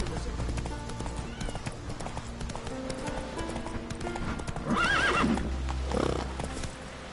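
Roach the horse gallops in The Witcher video game, with rhythmic hoofbeats throughout and a whinny near the end, mixed with game ambience and voices.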